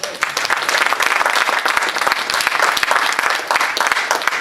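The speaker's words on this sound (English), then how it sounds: "Give them a round of applause." An audience at a Black Male Entrepreneurship Network inaugural event breaks into applause, many hands clapping in a full, continuous and fairly loud roll that holds steady with no talking.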